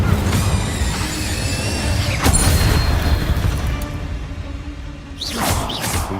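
Incendio casting in Hogwarts Legacy: a sudden fiery burst midway and another whooshing flare near the end, set against continuous low rumbling game ambience.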